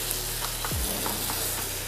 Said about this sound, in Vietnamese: Chúng ta sẽ xào nghêu nhanh, thật là nhanh, là tại vì nghêu nó đã chín rồi.